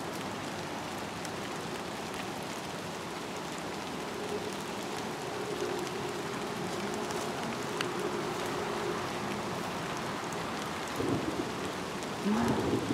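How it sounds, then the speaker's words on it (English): Steady heavy rain hisses throughout, with a low rumble of thunder rolling underneath and a sharper burst near the end. "Thunder."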